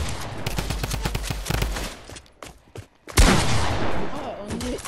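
Rapid bursts of gunfire in a building-and-shooting video game, a dense volley of shots over the first two seconds, a brief pause, then another loud burst and continued noisy action, with a player talking over it.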